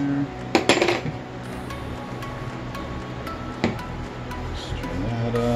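Soft plastic mix with red flake being stirred in a pot, with sharp metallic clinks and scrapes at the start and again midway over a steady background hum.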